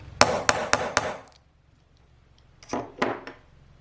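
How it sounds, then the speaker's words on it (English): Four quick, sharp metallic hammer blows on a hole punch ring out in a steady rhythm, then after a pause two more strikes land, close and loud. "pop the punch in the center there, and just with a hammer"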